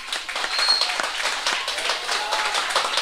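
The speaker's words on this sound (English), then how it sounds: "Round of applause on that" Crowd applause at the reopening of a refurbished pan theatre for a steelband symphony event: a continuous wash of many hands clapping at an even level throughout, fairly close and loud, with no voices on top.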